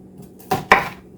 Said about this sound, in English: for the onions, I'm just going to do a large diced on them.